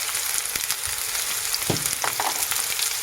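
Onion and peppers frying in oil in a pan, a steady close sizzle with occasional soft knocks and scrapes of stirring.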